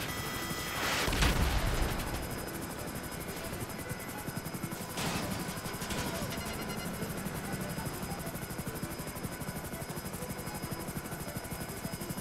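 A helicopter under gunfire in GTA 5 Online, its steady rotor buzz running throughout, broken by a loud burst of fire near the start and another smaller hit midway.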